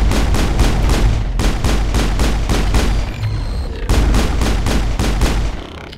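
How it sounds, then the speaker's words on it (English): Rapid, loud gunfire from the video game Mass Effect, a dense rhythmic string of shots with a brief lull before the shooting resumes, close and without talk. "Shoot him, Liara."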